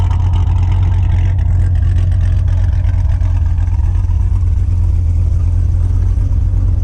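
Deep burbling idle of a Katech cammed V8 in a C7 Corvette Grand Sport, a loud, close, steady lumpy rumble with an uneven cam lope and no other sounds.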